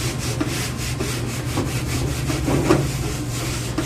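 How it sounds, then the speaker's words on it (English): Green scrub pad, moistened, rubbed back and forth over a Duke broiler surface, giving a steady run of rhythmic abrasive scrubbing strokes, close and fairly loud, with no talking. "You take your green scrub pad, just moisten, scrub that off"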